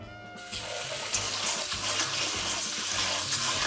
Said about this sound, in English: I'm going to wash this rice right now.